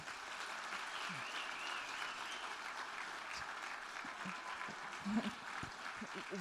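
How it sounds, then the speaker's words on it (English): An audience at a closing ceremony claps steadily for several seconds. The applause sounds faint and distant, like a dense, even patter with no voices rising above it. "Why don't we give Nancy a big round of applause?"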